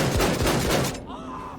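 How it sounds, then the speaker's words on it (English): A rotary-barrel, full-auto shotgun in Wolfenstein: The New Colossus fires a rapid burst of loud, close blasts for about a second, then cuts off into a short fading tail. "you guys know what game has a really fucking great video game shotgun? Wolfenstein."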